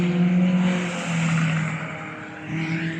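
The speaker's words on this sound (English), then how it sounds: "Here comes the Caterham." A Caterham sports car passes on the Cadwell Park circuit during a track day, a steady engine drone with a strong low tone, loud at first, dipping slightly, then swelling again as it goes by.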